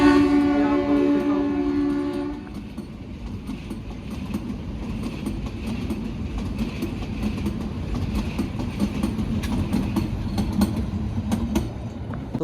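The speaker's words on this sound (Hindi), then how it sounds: "ये देखो जी टॉय ट्रेन, इसी का मैं बैठ के कभी से वेट कर रहा था।" The Shimla toy train sounds a loud horn, then rolls past close by with a steady rumble and rhythmic clatter of wheels on the rails.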